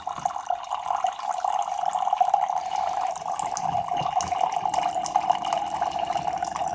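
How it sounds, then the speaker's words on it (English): A thin stream of water pours steadily from a countertop reverse osmosis filter dispenser into a cup, a constant trickling splash with faint gurgles and no talking. "Press normal, water pops out like so."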